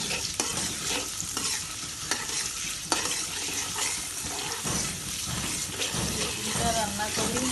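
Leafy greens stir-fried in a home-kitchen pan, a steady close sizzle broken by repeated scraping stirs, with a little running water and faint voices in the background.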